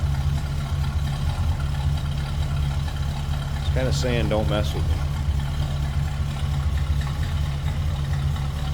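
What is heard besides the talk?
deep throaty car exhaust note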